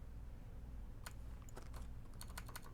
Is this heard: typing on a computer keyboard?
yes